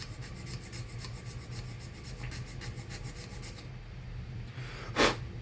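A plastic part of a Nerf Hammershot blaster is filed by hand, making a steady close rasping scrape in quick regular strokes that stops near the end, followed by a single sharp knock.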